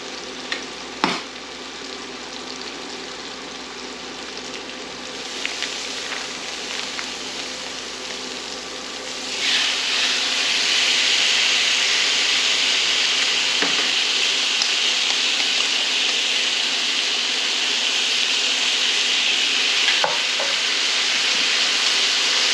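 A porterhouse steak and marinated mushrooms sear in a hot pan with a loud, continuous sizzle and hiss that swells partway through as more food hits the pan, with a few faint clicks and knocks on top.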